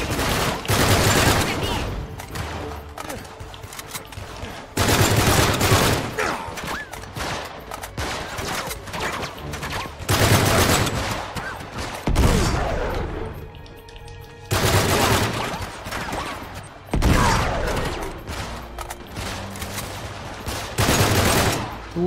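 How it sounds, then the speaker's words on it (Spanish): Heavy automatic gunfire in Uncharted 3: Drake's Deception, loud sustained bursts of machine-gun shooting that come in long waves separated by brief lulls, close and dominant across the whole stretch. "Deja de dispararme"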